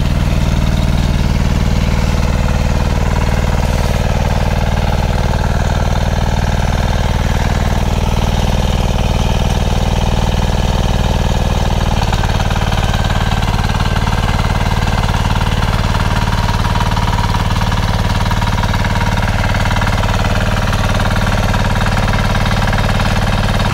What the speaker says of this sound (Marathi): आला आपला ट्रॅक्टर चालू, मिनी ट्रॅक्टर.